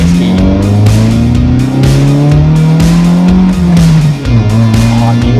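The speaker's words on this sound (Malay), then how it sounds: "Ni filter ni nak keluar panas-panas enjin sikit dalam motor naik kan" A motorcycle engine is revved hard to clear the exhaust filter, giving a loud, close, sustained roar whose pitch climbs and dips with the throttle over several seconds.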